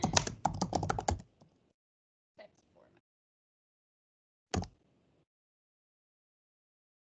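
Bursts of computer keyboard typing while entering a description for an upload in a Teams-based classroom setup, a quick flurry of close keystrokes at the start, then a few isolated clicks and faint speech amid long quiet gaps.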